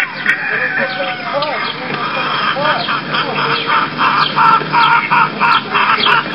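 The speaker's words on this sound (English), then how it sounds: "here are some roosters and some more chickens." Roosters and chickens on a farm, including Cornish game hens and Plymouth Rocks, clucking and calling continuously in a busy, loud flock chorus with overlapping rhythmic squawks.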